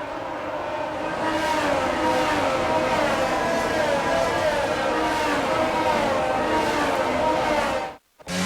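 A pack of F1 cars rolling through the formation lap in the racing game F1 22, a steady, continuous engine drone with a few rising tones, held at an even loudness until a brief cut near the end.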